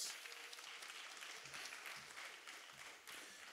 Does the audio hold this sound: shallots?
no